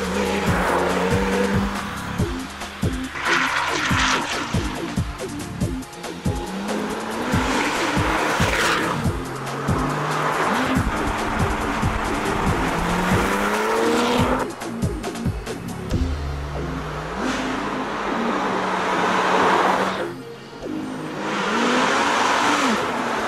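A Porsche 997 GT2 slides with repeated tire squeals and skids, loud and close, its engine revving and surging between the screeches over a long stretch.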